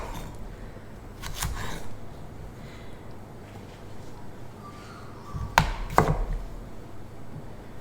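Knife cutting bug-damaged bits out of food on a board, two pairs of sharp chopping thuds separated by a quiet pause, close and crisp with no talking.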